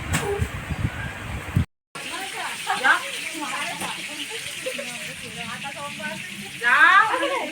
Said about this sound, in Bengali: আগে জল দেবো।